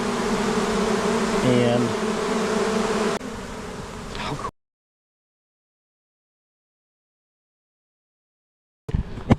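Honeybees swarming into a HiveIQ beehive make a dense buzzing hum, loud and close for several seconds, fading, then cutting to silence before a brief burst returns at the end.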